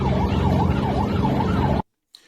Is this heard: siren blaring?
yes